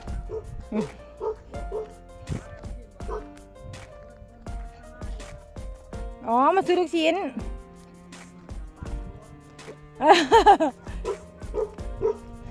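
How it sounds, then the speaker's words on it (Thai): A dog barks in short, repeated yaps with yips and whimpers mixed in, fairly close and loud, while people talk and laugh around it. "น้องหมาเราก็มีแค่เห่านะ"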